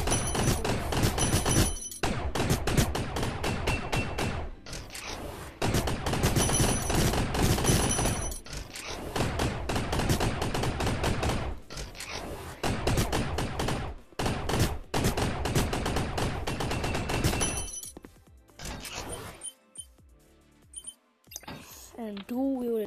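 Dual-wielded SMGs firing in the Gun Raiders video game, with rapid bursts of shots over dense game music, loud and nearly continuous, breaking off near the end.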